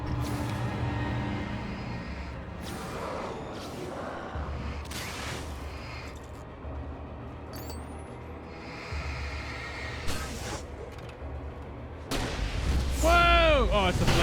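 A flare gun fires in Alan Wake Remastered, producing heavy booming blasts with a loud whooshing burst near the end, over a low rumbling game background with someone talking intermittently.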